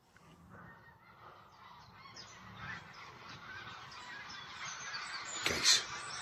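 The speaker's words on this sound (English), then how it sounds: "Geese." Geese honk on a local nature walk, starting faint and distant and growing louder, with a sharp nearby honk near the end.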